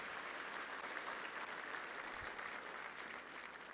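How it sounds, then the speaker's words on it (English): Steady applause from a large audience of several hundred at an awards ceremony, a dense, even wash of clapping that runs throughout at a fairly faint level. "let's give everybody a round of applause"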